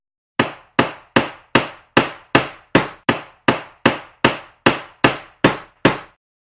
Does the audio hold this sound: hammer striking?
yes